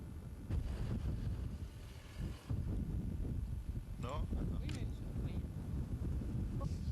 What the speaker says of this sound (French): Petit vent pour nous réveiller